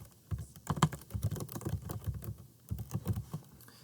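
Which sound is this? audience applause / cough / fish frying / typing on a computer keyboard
typing on a computer keyboard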